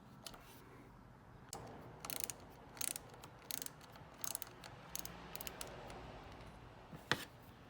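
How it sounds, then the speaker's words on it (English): Screwdriver working the top bolt on a GSXR 750 lever, heard as a series of small, crisp metallic clicks and ratcheting ticks in irregular bursts, close and quiet, with a sharper click near the end and no talking. "you can use your screwdriver to unscrew the top bolt over here"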